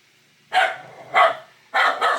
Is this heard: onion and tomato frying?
no